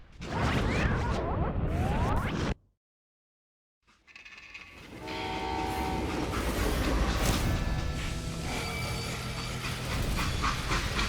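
A freight train in the video game Call of Juarez: Gunslinger rumbles along with rhythmic clatter, cut by a brief silence before the steady rolling noise returns, loud and close.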